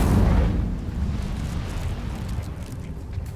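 An Incendio fire spell cast in the video game Hogwarts Legacy, a loud, deep whooshing burst that starts strong and then fades into a lingering rumble of flame.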